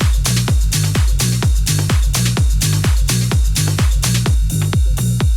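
Tech house loop in a Toolroom style, with a punchy four-on-the-floor kick, a pulsing bassline, a lead riff, ride, hi-hats, crash and percussion, looping steadily and loud with no voices.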